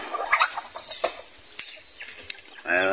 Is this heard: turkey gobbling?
yes